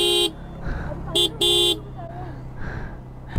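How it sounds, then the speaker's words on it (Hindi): A car horn blares in three close, loud honks: one long, then a short toot and another longer blast, with quieter street noise between. "मैं तो हॉर्न बजा के देख रहा हूँ यार"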